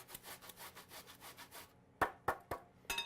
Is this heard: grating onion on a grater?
yes